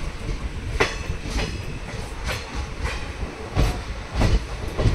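A train runs along a double-track railway line near Betamcherla, with steady rumbling and rhythmic clickety-clack wheel beats recurring at regular intervals, moderately near, with no voices.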